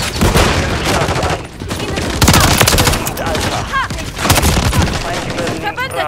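Call of Duty Modern Warfare 3 multiplayer on the Highrise map, with loud, dense bursts of automatic gunfire, rapid overlapping shots and brief pauses, close and continuous.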